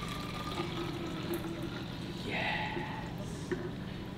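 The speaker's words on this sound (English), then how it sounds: "I'm gonna pour this in here." Hot dandelion tea pours steadily into a container, a soft liquid trickle and splash heard close over a quiet room with a faint background hum.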